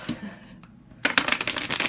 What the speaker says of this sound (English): Oh, gotta love those good shuffles.